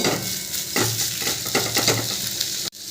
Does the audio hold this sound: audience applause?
no